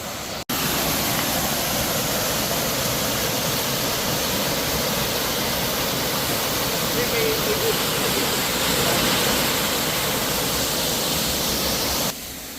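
Waterfall in Lipa City, Batangas, heard as a loud, steady broadband roar of falling water that runs without a break for the whole clip, close by and with no talk over it.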